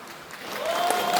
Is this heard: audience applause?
yes